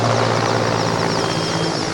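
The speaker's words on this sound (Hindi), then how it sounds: "ये देखिए हेलीकॉप्टर है जो प्रधानमंत्री के साथ काफिले में चला है।" A helicopter from the Prime Minister's convoy drones loudly and steadily overhead in Jharkhand, its rotor and engine whine continuous and close.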